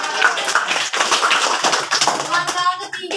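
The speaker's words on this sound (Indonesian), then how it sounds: "Tepuk tangan dulu." Children clap their hands in a short burst during a classroom cloud-in-a-glass science demonstration, with scattered kids' voices mixed in before the clapping tails off.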